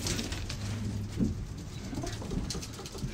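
Pigeons coo softly and repeatedly in a loft, low throaty calls over faint rustling and patter, fairly close with no talking.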